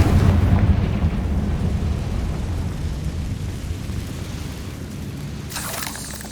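The Confringo blasting spell in Hogwarts Legacy: a loud, close explosive boom opens and trails off into a long, rumbling decay, with a brief crackling burst near the end.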